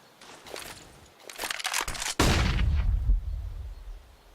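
Rifle spray in Counter-Strike on the Inferno map: a burst of rapid gunfire followed by a heavy, booming report that decays into a rumble, loud and close with no voices.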